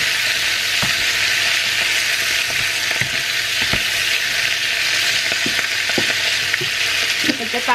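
Pancit noodles with celery leaves being stirred in a hot pan, a continuous loud sizzle of frying with scattered scrapes and clicks of the utensil, close up and with no voices.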